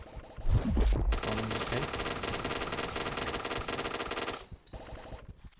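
Rapid automatic gunfire from the shooter game Point Blank rattles loud and continuous for several seconds after a burst of heavy low thumps, then cuts off abruptly, with some talking around it.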